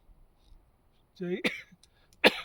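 A dry cough from a throat parched by the dry mountain climate near a glacier, two short harsh bursts with throat-clearing, close and fairly loud, separated by brief quiet.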